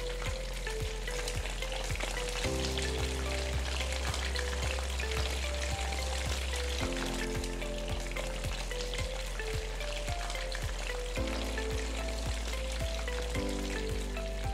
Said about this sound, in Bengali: এপিট ওপিট করে উল্টে একটু ব্রাউন ব্রাউন কালার আসা অবধি ভালো করে ভেজে নিতে হবে উইংস গুলোকে